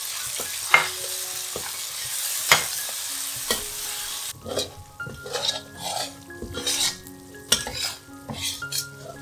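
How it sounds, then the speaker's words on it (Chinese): Chili paste stir-fried over low heat in a wok for a vegetarian curry, with a steady sizzle and repeated scraping and clanking of a spatula against metal, loud and close, no talk. "倒入辣椒泥，小火炒至大约10分钟后"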